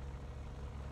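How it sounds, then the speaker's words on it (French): Tank engine rumbling in War Thunder, a steady low idling drone that holds evenly throughout the short moment with no other sounds. "J'entends un moteur, je crois"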